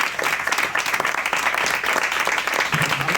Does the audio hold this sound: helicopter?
no